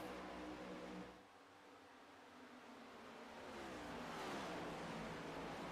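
Race cars in an NTRL Cup Series event at Pocono speed into a turn at around 194 mph, a loud continuous engine roar that dips briefly and then swells again as they pass, with no talk.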